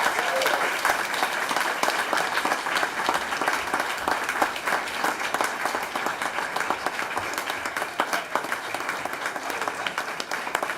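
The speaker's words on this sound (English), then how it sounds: "can we give them another round of applause?" A school board meeting audience gives a sustained round of applause, dense clapping steady and loud throughout with a few voices mixed in.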